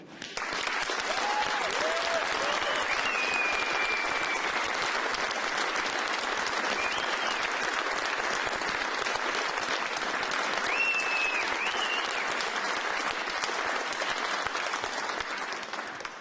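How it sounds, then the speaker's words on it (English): Crowd applause at an outdoor Oakland press conference, loud and sustained for the whole stretch, dense clapping with scattered cheers and whoops rising above it. "I appreciate every single one of you, and I applaud you."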